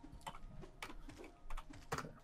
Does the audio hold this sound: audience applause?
no